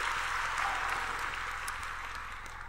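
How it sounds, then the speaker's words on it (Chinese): A church congregation at a Sunday service claps together in a dense, even burst of applause that holds steady and fades slightly, with no voices over it. "好，我们鼓掌，多谢神啊。"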